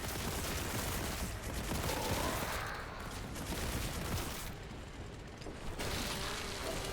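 Rapid, loud shotgun blasts and mechanical reloading clatter from the Warhammer 40,000: Boltgun video game, firing repeatedly in dense bursts over about seven seconds with no talk.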